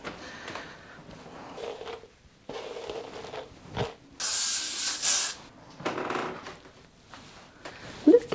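A hairspray can sprays over freshly brushed hair, giving one steady hiss of about a second amid quieter rustling and handling sounds.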